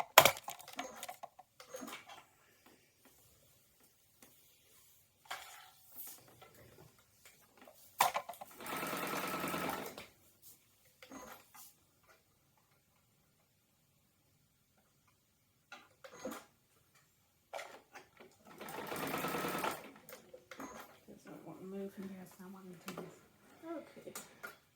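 A sewing machine stitching small pieces of fabric for a homemade cat toy runs in two short bursts of rapid whirring, separated by stretches of quiet, scattered clicks and someone talking.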